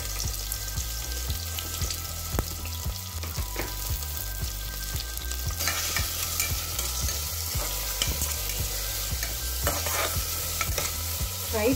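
Onion and green chilies frying in a pan, a close, steady hiss of oil under brisk, rhythmic spatula scrapes and knocks against the pan, with no one speaking.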